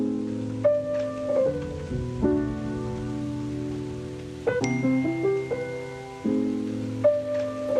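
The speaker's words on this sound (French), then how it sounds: "Les petits bruits de pluie et tout, déjà, ça donne un peu une ambiance lo-fi dès le début." Soft rain patter with small clinking drops under a mellow lo-fi music track, with gentle sustained chords and plucked notes running throughout.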